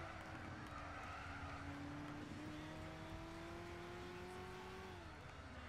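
Race car engine revving in Gran Turismo 6 on the Nürburgring, a loud sustained drone that climbs steadily in pitch then drops, with a continuous roar filling the clip and no talk.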